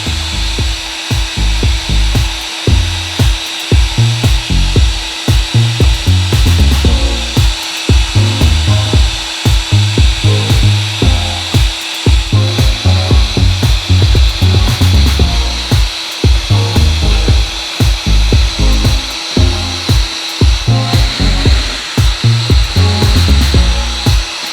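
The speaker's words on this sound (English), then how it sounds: "Now that I've worked out this is fiberglass, I should be able to heat it and peel it off." A fiberglass resin coating on a Philips B4X23 radio being heated and peeled off, with a loud, constant heat-gun blow running beneath rapid, repeated scraping and tearing strokes close by, with no talking.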